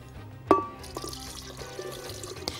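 Water poured into a blender jar while making qamar al-din pudding, a brief splash and gurgle of liquid at the start, followed by quieter trickling and small clinks, fairly close and without talking.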